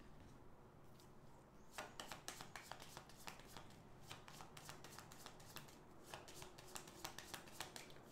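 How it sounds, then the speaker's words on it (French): Tarot cards being shuffled, a quiet close riffle of crisp papery flicks and slaps that starts softly, then comes in dense bursts with brief pauses. "Je vais rajouter des cartes."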